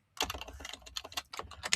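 Rapid typing on a computer keyboard while entering a chat prompt, a close, steady run of clicky keystrokes with no pauses and no voice.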